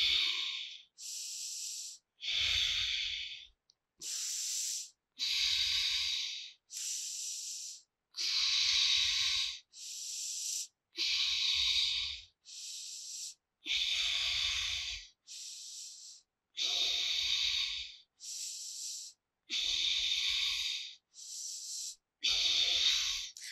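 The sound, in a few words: breathing in and out during dumbbell yoga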